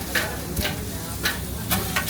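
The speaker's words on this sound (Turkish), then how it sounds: "Şöyle cheddar'ı koyuyoruz. Biraz buharda demleniyor." Cheddar poured over kokoreç sizzles and steams on a hot griddle, a steady close frying hiss with a few louder bursts of crackle and stirring scrapes, no talking.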